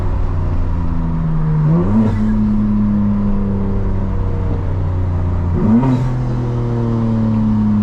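A 2025 BMW M4 Competition xDrive drives around Destin, Florida, its engine droning loud and near. Revs climb twice in quick surges, each like a hard shift under heavy throttle.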